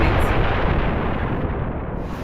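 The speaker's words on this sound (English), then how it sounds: "It sounded like a bomb." A bomb blast near a military cantonment in Ikeja, Lagos, comes through as a loud, sustained broadband roar and rumble that fills the whole clip, with no distinct onset and no voices.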